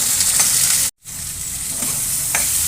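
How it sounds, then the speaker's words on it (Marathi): Green peas sautéing in a pan with garlic paste, chopped green chilli, turmeric and salt, a steady close sizzle with light stirring scrapes and one brief moment of silence near the middle. "आता हे वाटाणे परतून घ्यायचे छान."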